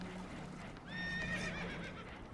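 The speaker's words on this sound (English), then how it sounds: "Horses are spooked" Spooked horses neighing aboard a damaged boat in Red Dead Redemption 2, one clear shrill whinny rising mid-clip over a low, steady hum.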